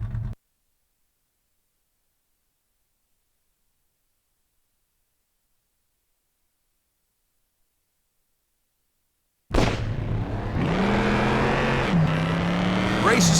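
Racing car engines in The Dukes of Hazzard: Return of the General Lee video game on PlayStation break in after a long silence and roar loudly and steadily, with rising revs as the race gets under way.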